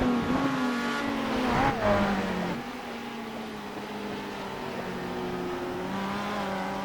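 Race cars in the Bathurst 12 Hour endurance race drone past with engines whining and shifting pitch, loud at first and then settling into a steadier, slightly fainter running hum.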